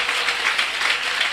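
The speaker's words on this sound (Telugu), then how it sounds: "ఓసారి చప్పట్లు కొట్టి స్తోత్రం చెప్పొచ్చుగా." Church congregation clapping together in a short, dense burst of steady applause, loud and close, with no voices.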